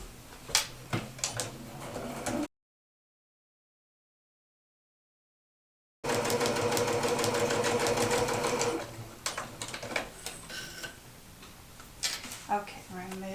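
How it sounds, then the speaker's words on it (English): A sewing machine stitches around the edges of fabric in bursts of rapid, even mechanical clatter, with a few seconds of full silence between runs and some lighter ticking and handling near the end. "I'm going to head over to the machine and stitch all the way around"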